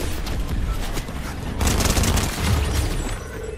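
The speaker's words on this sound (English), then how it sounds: "Who's shooting?" Gunfire in a video game match crackles in rapid volleys with a few booming hits, growing louder partway through and staying busy to the end.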